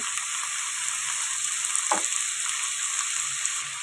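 A brinjal and tomato curry sizzles and fries steadily in a pan, and one brief scrape of stirring cuts in near the middle of the clip.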